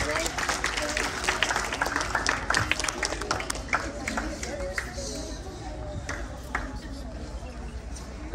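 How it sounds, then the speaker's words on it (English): An audience of students claps softly and steadily for girls who have just recited poems at a live school poetry sharing event, a dense, continuous patter mixed with voices talking throughout. "So can we give a quiet clap for these girls?"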